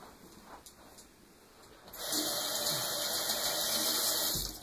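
Water runs from a tap as hands are rinsed, a steady hiss that starts abruptly partway through and continues near and clear, with faint quiet room noise before it.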